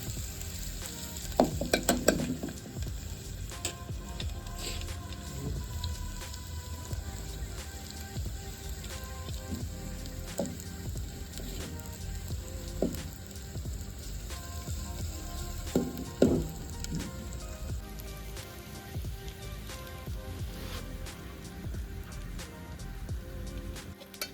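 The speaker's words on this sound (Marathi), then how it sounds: "कांदा टाकला ना तो व्यवस्थित आपल्याला एकत्र असं लाल होत पर्यंत भाजून घ्यायचं मस्त" Onions roast in a pan over a wood-fired stove, giving a steady close sizzle with occasional crackles and stirring scrapes and no talking.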